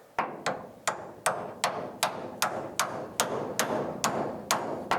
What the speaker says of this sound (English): And give our bushing a couple taps here.